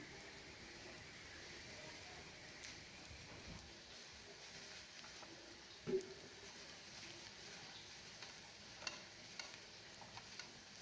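Onions fry in a pan for fish biryani, a soft, steady sizzle at low level with a few faint stirring clinks.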